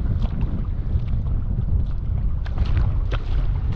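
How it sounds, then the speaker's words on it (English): Strong wind at Webb Beach buffets the microphone in a steady, loud, low rumble that never lets up, with gusty hiss rising above it and no voices. "And boy, is it windy."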